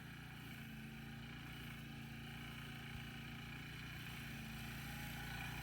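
A small walk-behind, self-propelled lawn mower engine runs steadily at a constant pitch, a continuous droning hum with no pauses or talk, close by.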